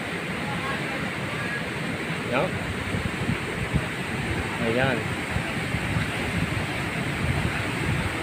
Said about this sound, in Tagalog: Tigas dumadaloy talaga sa ilalim ng palay yung tubig.